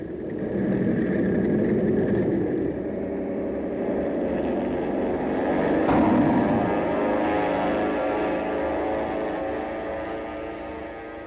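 Carrier-based World War II planes launch by catapult from a carrier deck at sea, their engines a loud, steady droning rumble that swells briefly midway and then fades slightly toward the end.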